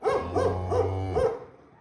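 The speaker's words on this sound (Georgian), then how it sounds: "ეს ერთი ძაღლი" A dog gives four rhythmic, tonal, howling barks close by, each a drawn-out hooting call in a steady sequence, fading out at the end.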